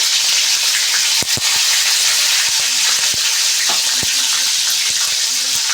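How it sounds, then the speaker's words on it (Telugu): Mustard seeds, cumin, onion, curry leaves and dried chillies sizzle loudly in hot oil, a dense close crackle with scattered sharp pops and stirring clicks throughout. "నూనె కాగింది ఇప్పుడు ఆవాలు వేసుకున్నాం అలాగే జీలకర్ర కొంచెం ఎర్రగడ్డ కరేపాకు ఒట్టిమిరకాయలు ఇవి నూనెలోకి వేసుకున్నాం"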